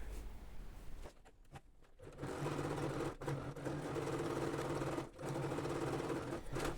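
Sewing machine running a seam along the edge of fabric and felt for a thermal lunch bag, a close, steady mechanical whir of stitching with brief pauses, no voices.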